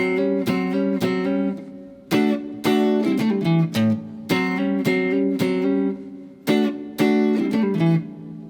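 Slow, unmuted electric guitar riff from a guitar solo, clear plucked notes and double-stops ringing in a loose rhythm with short pauses, close and solo.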